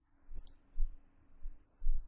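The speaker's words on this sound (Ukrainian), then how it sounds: "Ви можете увімкнути або вимкнути звукові сигнали при натисканні кнопок на клавіатурі." Button presses on an IP-KEY02-V2 PTZ camera control keyboard, two quick bright clicks close together near the start, followed by a few soft low thumps, with nobody talking.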